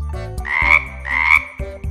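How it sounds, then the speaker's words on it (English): Two drawn-out, throaty frog croaks sound loud and close, one after the other with a short pause between them, followed by a brief third start. "Frog."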